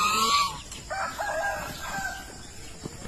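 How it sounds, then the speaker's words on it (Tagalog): Farm geese give loud, harsh honking calls, closest and strongest at the start, then a few scattered squawks with farmyard background noise. "Dito yung pinakamaingay din dito itong gansa namin."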